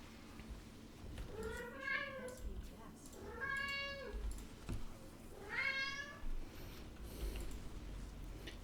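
A house cat gives three drawn-out, rising-and-falling meows, spaced a couple of seconds apart, fairly close over a steady background hum.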